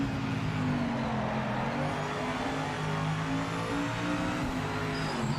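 A GT3 race car engine in the racing game Project Motor Racing drones at a steady high pitch, holding near-constant revs with slight wavering, loud and continuous with no talking.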